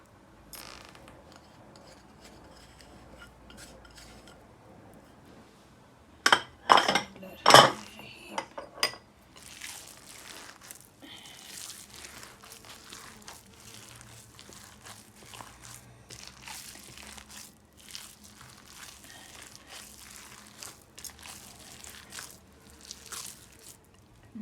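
Minced meat is mixed by hand with cornflour and spices in a bowl, giving soft wet squishing and a few loud clinks and knocks against the bowl early on, then a quieter, steady kneading that goes on with no talk.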